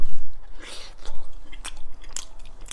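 Ice being bitten and chewed up close, a few crisp crunches scattered among softer chewing sounds, quiet and intimate with no talk.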